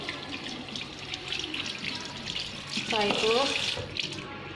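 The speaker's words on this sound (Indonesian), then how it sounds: "basahi tangan dengan air mengalir" Tap water runs steadily from a faucet at a sink while hands are wetted, a continuous close hiss of flowing water with a voice speaking briefly over it.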